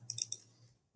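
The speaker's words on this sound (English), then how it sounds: "I'm just double clicking on them" Computer mouse double-clicked quickly, a couple of sharp, close, quiet clicks in rapid succession in a silent room.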